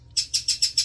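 A pet bird gives five quick, bright chirps in an even rhythm, close and loud, with no talking over them.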